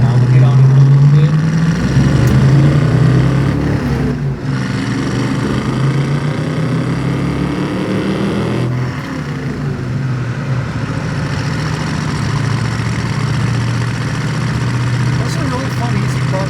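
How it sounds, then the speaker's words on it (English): A deep, rumbling V8 engine in a 1966 Ford Mustang with headers, dual exhaust and a muffler accelerates, its low exhaust note climbing then settling into a steady throaty drone as the car cruises along. "Exhaust, it has a nice set of headers, dual exhaust, a good muffler on it"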